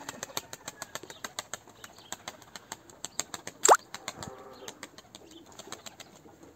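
Pigeon, a Turkish tumbler, landing: a rapid flutter of wingbeats throughout, then one sharp, louder flap-and-thump at touchdown, followed by softer settling flaps, fairly close and quiet overall.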